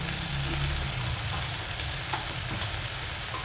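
Red chili sauce going into a pan of basa fish chilli frying alongside tomato sauce and dark soy sauce, giving a steady, dense sizzle with a low rumble throughout and no talking.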